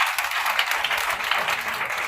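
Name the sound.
congregation applauding for Jesus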